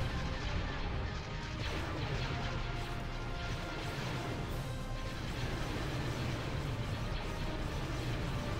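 Star Wars Interregnum space battle weapons fire, a dense, continuous rumble of blasts and crashes that stays loud and unbroken throughout, with faint speech beneath.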